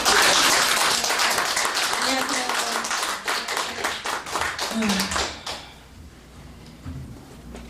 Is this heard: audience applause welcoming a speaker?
yes